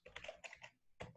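Typing on a computer keyboard: quick bursts of light plastic key clicks in uneven clusters with a short pause, close and quiet, no talking.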